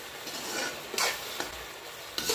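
Curry with ground paste and a little water being stirred in a hot pan, a continuous sizzle broken by a few sharp scraping strokes of a spoon against the pan, close up and without talk.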